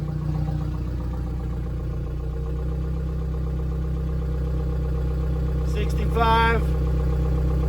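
A turbocharged Hyundai daily driver idles steadily with a low, even engine drone while someone talks over it throughout; a brief higher-pitched whine rises near the end.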